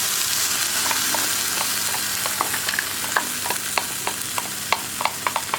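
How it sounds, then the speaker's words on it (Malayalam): Ground tomato sizzles as it goes into spices frying in a pan, a continuous close hiss marked by a run of sharp spoon clicks and scrapes as the mix is stirred, with no talking. "ഇപ്പോൾ നമ്മുടെ പൊടികളൊക്കെ കുക്കായി വന്നിട്ടുണ്ട്. നമുക്കിതിലേക്ക് അരച്ചു വെച്ചിരിക്കുന്ന തക്കാളി ചേർക്കാം."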